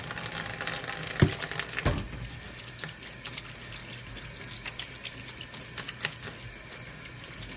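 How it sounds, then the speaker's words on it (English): Tap water running steadily into a kitchen sink while hands are washed, a continuous close hiss with a few clattering knocks and small splashes early on, no talking. "Just going to give my hands a quick wash."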